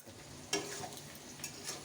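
Onions fry in a pan in a home kitchen, a soft, steady sizzle with a few sharp clicks and stirring knocks standing out against it.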